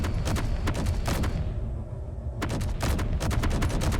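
A player's weapon fires in the underground shooter game Underground Alone, loud rapid bursts of gunfire split by a brief pause in the middle, then resuming with more quick shots over a low rumble.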